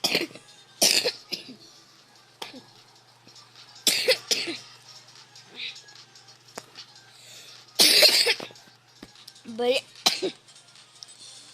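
Several loud, harsh coughs come in separate bursts, close to the microphone, with quiet pauses and some throat noises between them.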